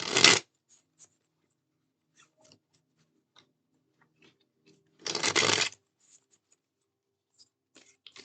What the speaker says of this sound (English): let's go ahead and shuffle a bit and try again.